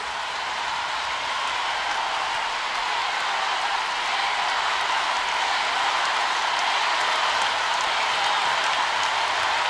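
Huge festival crowd at Viña del Mar applauding steadily, a dense, continuous wash of clapping from a large outdoor audience that holds at full level throughout.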